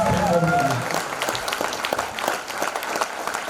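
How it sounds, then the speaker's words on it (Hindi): An audience applauds during a motivational speech at a company event, a burst of clapping that starts as a voice trails off and then carries on with some scattered cheering. "जोरदार तालियां होनी चाहिए एसलेपियस वेलनेस।"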